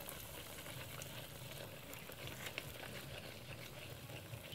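Lotus seeds and sautéed shallots sizzle steadily in a hot pan as they are stirred, a soft, even frying crackle with faint scraping and no speech.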